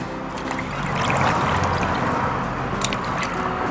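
Raw salted meat being swished and rinsed in a dish of water, wet sloshing, dripping and trickling sounds close up, continuous and moderately loud with no talking.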